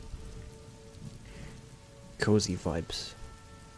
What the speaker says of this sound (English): I feel like the rain's too loud and the Skyrim's too quiet.